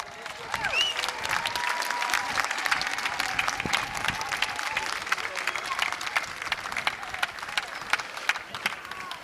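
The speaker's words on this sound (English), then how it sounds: "give her a round of applause" A crowd at the 2004 Million Worker March rally in Washington, DC applauds, sustained clapping mixed with a few cheers and voices, steady throughout.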